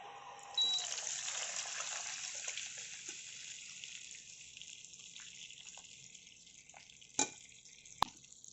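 Melted jaggery syrup poured through a strainer into a pan for sweet pongal, a soft steady liquid trickle that fades over several seconds, followed by a couple of light clinks of a utensil.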